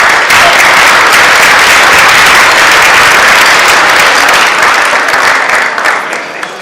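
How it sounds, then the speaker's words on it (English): Loud, dense applause from a hall audience at a Cleveland International Hall of Fame ceremony, sustained and continuous before tapering slightly near the end. "let's give her a round of applause"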